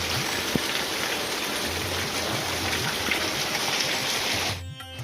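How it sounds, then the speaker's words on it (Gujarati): Heavy downpour in a village, a dense continuous hiss of rain striking surfaces nearby, holding steady at full strength before cutting off sharply just before the end. "તો મિત્રો બહુ વરસાદ પડ્યો આજે."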